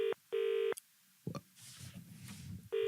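A phone ringback tone sounds in long repeating bursts, with a clatter and muffled background noise in the pause between rings.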